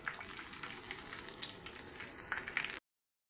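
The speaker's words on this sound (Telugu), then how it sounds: "వంకాయ అనేది బాగా ఫ్రై అయింది కదా" Brinjal frying in oil in a pan, a steady close sizzle and hiss that runs evenly for nearly three seconds before cutting off, with no voices.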